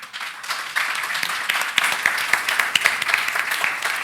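A forum audience applauds the panelists with dense, continuous clapping that holds steady and fairly close for about four seconds, no voices over it.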